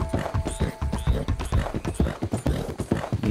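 Horse hooves clip-clop at a steady walking pace in Red Dead Redemption 2, the horse slightly lame, with a dense run of close, regular footfalls and faint ambient game sound beneath.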